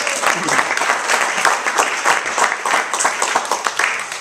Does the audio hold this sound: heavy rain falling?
no